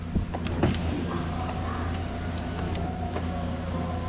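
A small electric motor hums steadily inside a 2000 Chevrolet Silverado truck as the power window runs, with a few faint clicks at the start over a low idling rumble.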